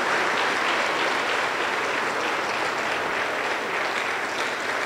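A Pentecostal church congregation in Junín, Peru applauding, a dense, loud, continuous wash of clapping that holds steady for several seconds.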